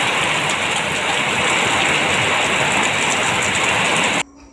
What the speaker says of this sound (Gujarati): છોટાઉદેપુર તાલુકામાં ગાજવીજ સાથે વરસાદ વરસ્યો